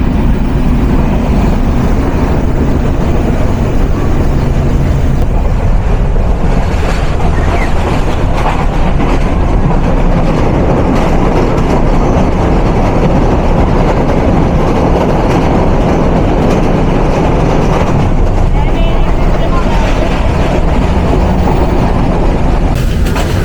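A Nilsagar Express passenger train runs steadily near Ibrahimabad station in Bangladesh, producing a continuous loud rumble and rattle of the wheels and carriages with no breaks from start to end.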